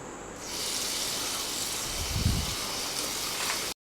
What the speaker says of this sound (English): So let's wash it first.